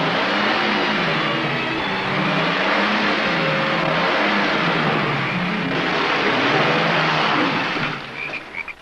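A car engine revs loudly and continuously as the car drives off, rising and falling in wavering surges under heavy broadband noise before cutting off near the end.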